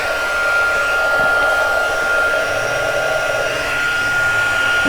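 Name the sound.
heat gun warming up for embossing powder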